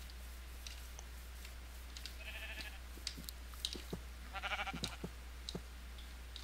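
A sheep in a video game gives two short wavering bleats over a quiet background, with scattered clicks and soft crunching sounds around them and no talk.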